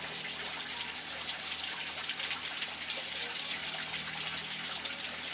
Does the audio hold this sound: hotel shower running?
yes